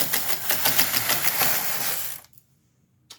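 A Corona knitting machine carriage slides across a row knitting tuck stitches, giving a close, loud rhythmic mechanical clatter for about two seconds before it stops dead, followed by one brief click.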